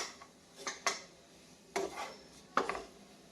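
Grated coconut stirred in ghee in a pan, a few soft scraping and tapping strokes of a spoon against the pan, quiet and close, with no talking.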